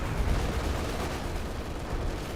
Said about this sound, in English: Got more base artillery being summoned there